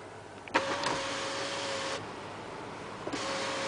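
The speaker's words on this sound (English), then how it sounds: "And let's open up the moonroof." Power moonroof on a 2008 Buick Enclave motoring open from inside the cabin: a click, a steady electric motor hum for about a second and a half, then a stop and a second short run.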